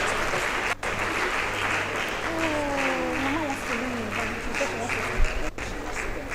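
Sustained audience applause fills a Women's Day celebration hall, a steady dense wash of many hands clapping throughout, with a brief voice and faint tonal sliding sounds mixed underneath.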